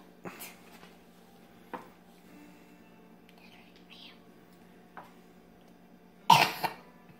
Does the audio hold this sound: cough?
yes